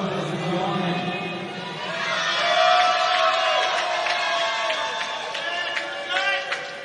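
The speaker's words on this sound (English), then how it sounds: "See the crowd from Ireland" A crowd of Irish fans cheers at a 3m synchronised mixed diving event at the European Games 2023, a broad swell of indoor cheering and chatter rising in the middle, with a commentator talking over it.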